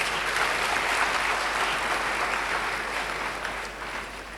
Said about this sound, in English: let's give them a rousing applause